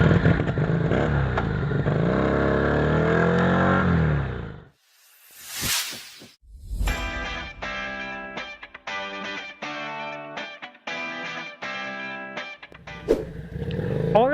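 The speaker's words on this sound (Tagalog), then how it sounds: "alamin na natin ang acceleration nitong motor na ito and also yung kanyang shifting" An FKM Victorino 250i scrambler motorcycle revs up and accelerates close by, its engine note rising and dropping through a series of gear shifts after a brief whoosh, with a short pause partway through.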